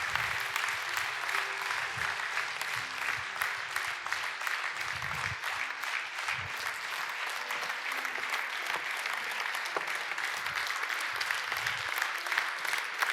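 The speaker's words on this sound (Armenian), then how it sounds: "Եկեք ծափարենք իրանց" A church congregation applauding in one steady, dense burst of clapping that fills the room and holds at an even loudness throughout, with no pauses.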